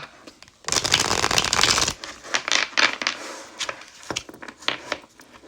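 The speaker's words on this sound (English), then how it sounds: "So let's just shuffle these." An animal-themed oracle card deck is shuffled by hand in one dense riffling burst of about a second, followed by lighter taps and card slides.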